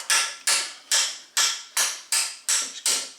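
A screwdriver works against a snap ring on the front suspension of a W210 Mercedes E320, giving eight sharp, evenly spaced grating strokes close up, each one trailing off before the next.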